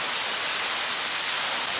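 Waterfall at Paradise Falls in Victoria's high country, a loud, dense, unbroken roar of falling water filling the whole moment up close.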